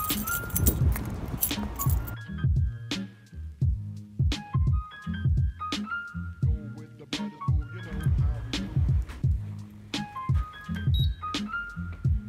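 A bunch of keys jangles and clinks in a rapid, uneven series of bright metallic hits while someone searches for them nearby.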